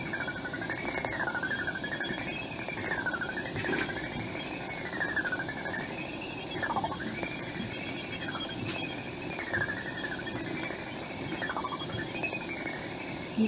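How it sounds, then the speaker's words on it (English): Bat echolocation calls picked up by a bat detector tuned to 110 kHz come through as a continuous warbling, chirping stream with repeated rising and falling sweeps over steady hiss, with no talking. "It's the bat shouting."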